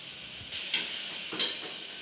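Horse gram dal being stirred in a cooking pot, a steady soft scraping and bubbling hiss with two brief louder stirs, close and alone.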